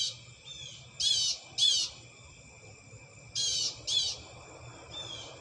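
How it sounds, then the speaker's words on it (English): An outdoor bird sings in two pairs of bright, high chirping bursts, each about a third of a second long, against a faint steady background hum and with no speech. "Man, that bird getting it in."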